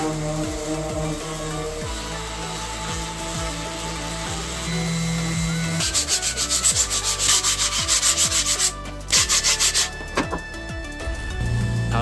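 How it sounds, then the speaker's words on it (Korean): Sandpaper rubs steadily over the surface of a 3D-printed part for a small PC case, with rhythmic back-and-forth scraping strokes that are loud and close. "다음은 출력물 표면 샌딩 작업입니다."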